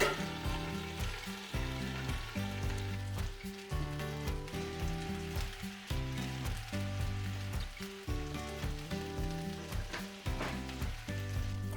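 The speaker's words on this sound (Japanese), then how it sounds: "白ワインで蒸します。" Food steams in a pan with white wine, a continuous sizzling hiss that swells and eases in a repeating rhythm, close and moderately loud with no talking.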